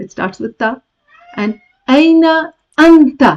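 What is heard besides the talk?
cat meowing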